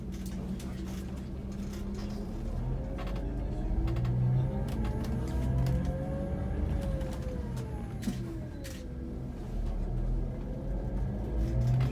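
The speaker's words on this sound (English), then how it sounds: "Mr. Hilux is in gear." Toyota Hilux pulling away in gear on a mountain road: a low engine rumble that rises and falls as it accelerates, with faint whirring gear tones, while someone talks over it.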